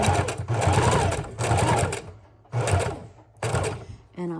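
Sewing machine stitching lace onto a miniature paper junk journal, close rapid whirring in three bursts with brief pauses between, a short clunk at the end.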